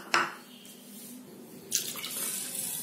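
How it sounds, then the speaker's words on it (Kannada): Water poured into a pot of drained soaked basmati rice and spices for Mughlai biryani, a brief splash at the start followed by a steady, close running pour that swells again near the end, with no talk. "ಇದಕ್ಕೆ ನಾನು 3 ಕಪ್ನಷ್ಟು ನೀರು ಹಾಕೊಳ್ತಾ ಇದ್ದೀನಿ"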